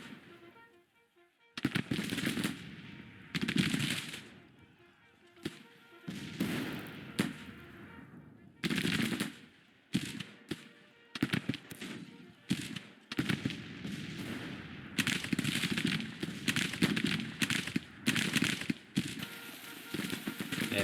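Skirmishers exchange musket fire in a Grand Tactician Civil War battle near Memphis: a rapid, uneven crackle of many shots in dense bursts and scattered pops, loud and continuous through most of the stretch with no talk.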